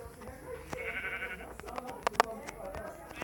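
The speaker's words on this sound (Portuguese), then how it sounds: "Vamos pegar essa ovelha logo." A sheep bleats in the Minecraft video game, a couple of short, clear bleats heard under ongoing speech, alongside game sound effects and a few sharp clicks.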